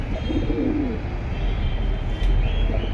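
Military breed pigeons coo in soft, repeated low murmurs, fairly close, over a steady background hum.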